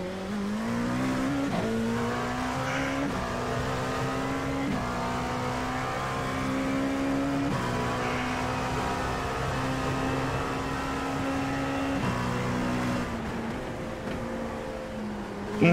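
A Porsche GTE race car in iRacing at Suzuka howls at high revs, a loud sustained engine drone that climbs and drops with several gear shifts and the occasional tyre squeal.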